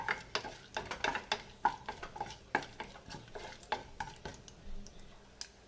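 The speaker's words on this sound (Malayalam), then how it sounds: "ഇങ്ങനെ നട്ട്സൊക്കെ ഇടുമ്പോഴത്തേക്കും റവ ഇഡ്ഡലി കുറച്ചുകൂടെ ടേസ്റ്റി ആയിട്ടിരിക്കും. അതിന് വേണ്ടിയിട്ട് ഇതെല്ലാം ഫ്രൈ ചെയ്ത് അതിൽ ആഡ് ചെയ്യുന്നത്." Nuts fry in a pan for rava idli, a soft sizzle under repeated close scraping and stirring clicks of a spoon against the pan in an irregular rhythm, with no talking.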